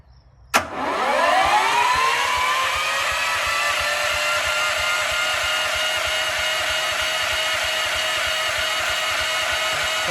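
A DK2 OPC505AE wood chipper's small engine, brand new and never run, catches after a sharp pull and settles into a loud, steady mid-pitched drone that runs on without a break.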